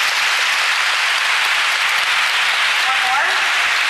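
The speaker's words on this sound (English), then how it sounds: "So I applaud you." An audience at a university lecture breaks into sustained applause, a dense, even wash of many hands clapping that stays loud throughout.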